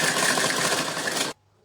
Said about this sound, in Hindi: ये जो निशान लगा रखा है इसके ऊपर ही मैं सिलाई लगाते हुए ऊपर जाऊंगी